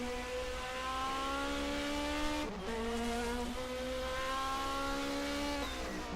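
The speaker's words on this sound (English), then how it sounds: "Heading now into the second turn. Anders doing an excellent job of staying right with Grant. Downshifting now." A 1979 DRM Division 2 race car at the Mainz-Finthen airfield circuit holds a steady high engine note, briefly drops it in a quick downshift, then climbs again as it accelerates out of the corner, loud and alone.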